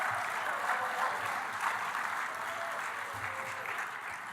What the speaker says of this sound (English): Give that applause to my committee members when they come up